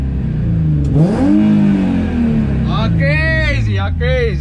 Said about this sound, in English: Now I want you to watch it when I give it some gas.